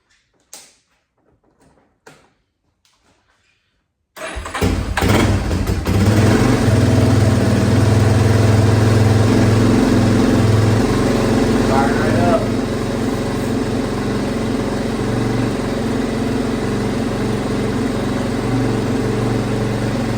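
A Yamaha Warrior 350 ATV engine cranks and fires after a few quiet clicks, then settles into a loud, steady idle close by.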